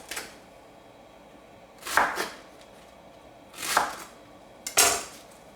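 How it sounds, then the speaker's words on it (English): A knife shreds cabbage on a cutting board: four distinct, crisp chopping strokes spaced about a second or two apart, close and fairly quiet against a hushed kitchen. "let's start by slicing or shredding up your cabbage"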